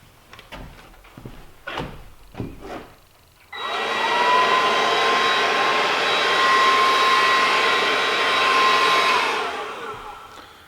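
A Snap Fresh leaf blower running on its low setting and blowing sawdust starts abruptly after a few knocks and clatters, then holds a steady loud whine-and-rush of air for about six seconds before spinning down.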